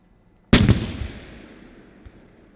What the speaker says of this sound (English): I have got another source, which was the cannon fire.